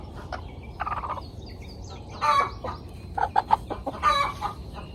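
Chickens cluck and squawk nearby in short, irregular bursts, with a few sharper calls rising over a low background rumble.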